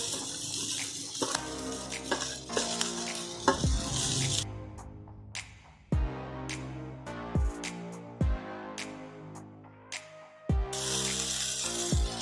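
Multigrain noodles and cabbage are stir-fried in a pan for an American chop suey, with a constant sizzle broken by sharp, repeated scrapes and clanks of a spatula against the pan, close and clear, with no talking.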